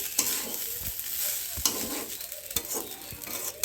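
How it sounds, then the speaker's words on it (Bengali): Rice for pulao is stirred with ghee in a hot pan, with a soft steady sizzle broken by sharp scraping strokes of the spoon every second or so. "এখন পোলাওয়ের জন্য চালটাকে ভালো করে মাখিয়ে নিচ্ছি ঘি দিয়ে।"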